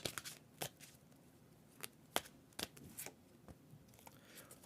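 A tarot card deck is shuffled in quick, crisp bursts of riffling and snapping cards, close up and fairly quiet, with short pauses between handfuls.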